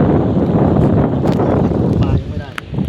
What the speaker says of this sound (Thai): เออลมมันแรง